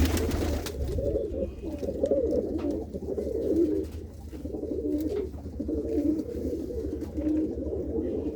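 Pigeons coo steadily and overlap in a low, throaty chorus throughout, close by, with no talking.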